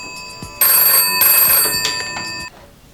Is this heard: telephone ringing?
yes